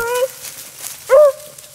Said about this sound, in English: out here hunting Buster and Joe and some young dogs.